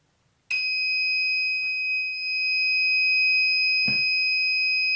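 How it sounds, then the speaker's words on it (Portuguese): Ouzer wireless fire alarm sounding its low-battery buzzer: a sharp, sustained electronic tone that starts abruptly and holds steady, loud and close, with a couple of faint clicks and a low thump partway through. "na verdade, o indicador sonoro, o buzzer apenas, não acionou a sirene"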